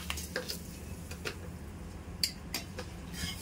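Sugar and bay leaves fry in hot oil for chicken masala, a steady close sizzle with occasional light clicks and scrapes of a spoon against the pan, no voices.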